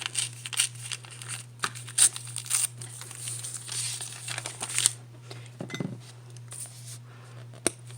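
Craft paper is torn and crinkled at close range in a series of short rips and rustles with small clinks between them, over a steady low hum.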